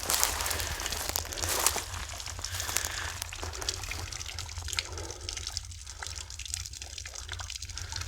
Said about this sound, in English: Dripping down here on the bottom.